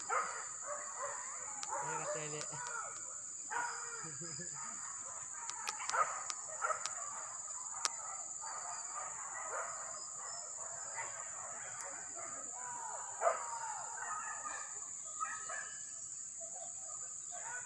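Hunting dogs bark intermittently in an outdoor rural setting amid a steady high insect drone, with scattered short yelps and people talking faintly in between.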